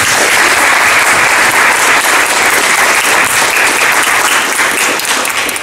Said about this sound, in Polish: myślę, że należy się brawa